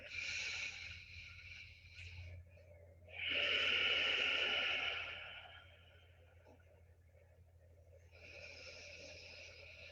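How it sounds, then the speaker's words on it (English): Slow, deep ujjayi breaths during a yoga session: long airy inhales and exhales with a soft throat hiss, close and fairly quiet, with a strong swell in the middle and brief pauses between. "So deep in your breath here, you might even begin to connect to an ujjayi breath."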